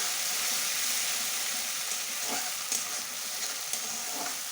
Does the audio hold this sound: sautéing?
yes